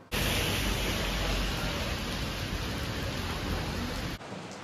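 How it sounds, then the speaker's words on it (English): Rain falls steadily in Singapore near Marina Bay Sands, a dense hiss of drops on surfaces, loud and close, with no talking, cutting off sharply near the end. "it's raining"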